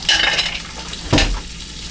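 Carrots and celery sauté in a pot for a wild rabbit and mushroom stew, a steady close sizzle with a brief stirring scrape in the middle.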